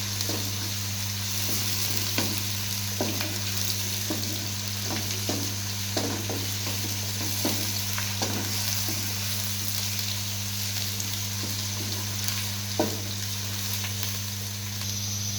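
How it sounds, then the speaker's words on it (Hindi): Onions frying in oil in a pan, sizzling steadily at a low level while a spoon stirs them with repeated light scraping strokes, under a constant low hum and with no talking. "अब मैं इस प्याज को ऑयल में लाइट ब्राउन करूँगी।"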